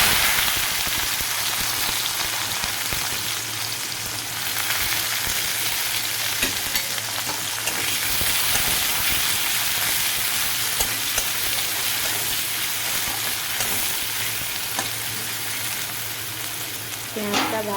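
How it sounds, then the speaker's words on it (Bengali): Panch phoron and green chillies sizzling in hot oil, a steady, rain-like hiss and crackle filling the whole stretch, close and continuous, with a brief voice near the end. "তেলের মধ্যে দিয়ে দিলাম 5 ফোড়ন, দিয়ে দিলাম কাঁচা লঙ্কা"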